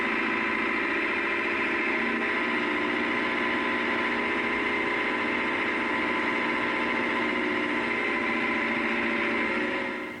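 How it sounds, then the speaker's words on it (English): A Leyland 384 tractor with a 70 horsepower engine drones steadily under load while pulling a 5-furrow plough, a continuous, even engine hum with no talk, fading slightly at the very end. "The 70 horsepower 384, pulling a 5-furrow version of the same plough,"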